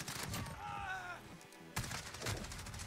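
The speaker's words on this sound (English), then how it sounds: "Guy's got a shotgun." Gunfire in the Modern Warfare video game, with an enemy shotgun among the shots: sharp bursts of shots come repeatedly over a steady game soundscape, with a short tonal sweep early on and a loud report near the middle.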